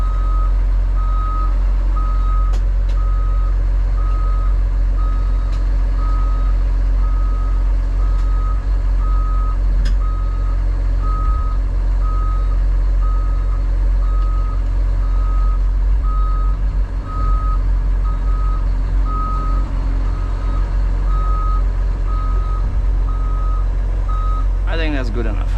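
A CAT 336 excavator weighing 85,000 lb is driven onto a trailer in Jackson, TN, its reversing alarm beeping steadily and loudly over a constant heavy diesel drone.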